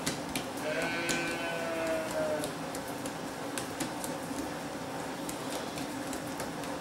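Sheep bleat now and then in the background, faint and distant, over steady ambient noise with scattered clicks in a kitchen where roti canai, Malaysian flatbread, is being made.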